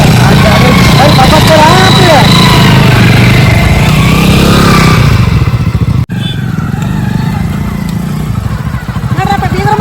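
A motorcycle engine runs loud and close with a steady, rough drone, and voices talk over it throughout before a brief cut midway.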